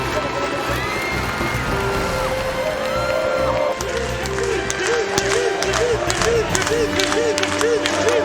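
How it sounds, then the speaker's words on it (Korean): A volleyball crowd in an arena in Istanbul chants Kim Yeon-koung's name in unison, rhythmic repeated group voices rising over steady crowd noise and clapping, loud and continuous throughout. "역시 관중들이 한 목소리로 부르는 이름. 김연경, 바로 그녀다."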